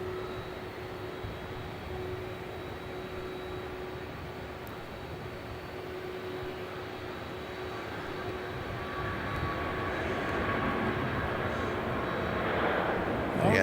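A heavy jet lands at Melbourne Airport, its broad engine roar building steadily louder over about fourteen seconds, with a steady tone running beneath and distant chatter mixed in.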